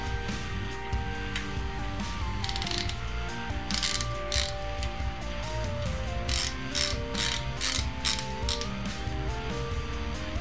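Ratchet torquing bolts on a K24 engine block fitted with an RSX oil pump, rapid close clicking in repeated bursts over a mechanical background, no talking.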